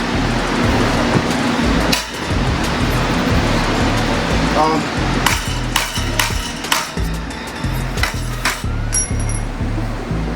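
Repeated sharp metallic clanks of a hammer striking metal, irregular bursts of blows over a rumbling background, close and loud.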